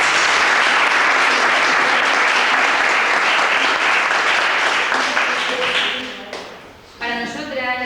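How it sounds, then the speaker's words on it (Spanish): An audience applauds at a book presentation, a full wash of clapping that runs strongly for several seconds, then thins and fades out before a voice starts speaking at the end. "Y os pido que le den un aplauso."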